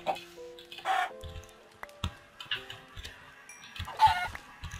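Chickens in the Minecraft video game cluck in short, separated bursts over a quiet background of small clicks and ticks.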